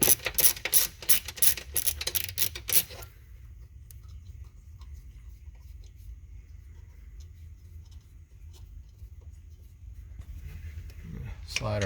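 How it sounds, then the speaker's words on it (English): A ratchet works on a 13mm nut on the engine of a 2011-2020 Dodge Charger, Challenger or Chrysler 300C with the 3.6L V6. It gives a quick run of loud, close clicks that stops after about three seconds, leaving a quiet background hum. "we're going to remove this 13mm nut."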